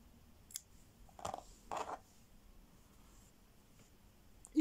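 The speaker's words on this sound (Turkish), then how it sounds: "bu parçayı üzerine dikecek kadar ipi bırakıp kesiyorum" Scissors cut yarn for a crocheted amigurumi foot piece, with a couple of soft quiet snips close by against a near-silent background.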